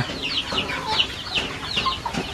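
Heritage chickens on a backyard farm cluck in short, repeated, overlapping calls from several nearby birds, a steady busy chatter of the flock with soft ambient noise behind.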